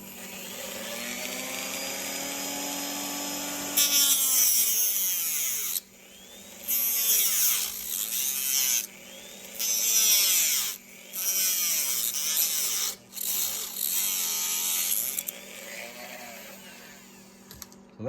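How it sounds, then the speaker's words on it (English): Dremel rotary tool cutting a part off a 1/64 scale model chassis, a high whining motor with several loud bursts of cutting that start and stop over about fifteen seconds, close up. "I'm just gonna take a Dremel and cut it off real quick."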